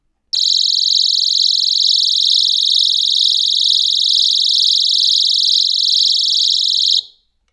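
A 135 dB personal safety alarm sounding after its pin is pulled: a piercing, continuous high-pitched electronic tone, very loud and unbroken for about seven seconds before stopping abruptly.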